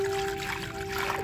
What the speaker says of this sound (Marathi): आता पाणी ओतते याच्यामध्ये.